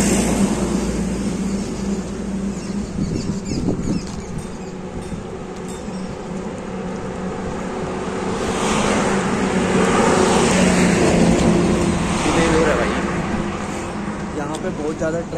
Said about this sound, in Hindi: ज़्यादा ट्रैफिक चलता है